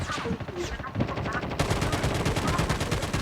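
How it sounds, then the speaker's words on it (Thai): Rapid machine-gun fire from a tank video game rattles in a dense, continuous burst, loud and close, with the rate of fire picking up partway through. "โอ้โหยิงไม่ถึงเลย"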